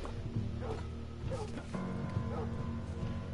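A dog in a video game whimpers and gives soft barking yips, with a player's voice speaking over the sounds throughout.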